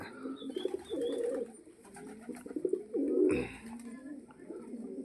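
Native breed pigeons coo in soft, repeated rolling phrases, with a brief flutter or rustle partway through and faint chirps in the background.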